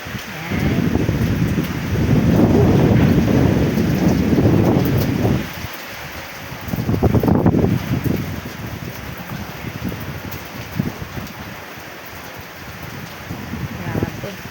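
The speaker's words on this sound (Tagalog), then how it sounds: "Grabe din ang ulan, lakas ng hangin." Strong wind with heavy rain sweeps across a foggy farm where grapevines grow, a loud broadband roar in long gusts that swell, drop off briefly, then surge again, with a voice speaking faintly under the noise.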